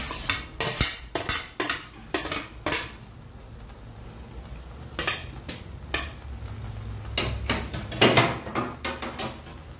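A utensil scrapes and clacks in a pan as vegetables are stirred back into sotanghon noodles, in irregular bursts of close clatter with quiet gaps between.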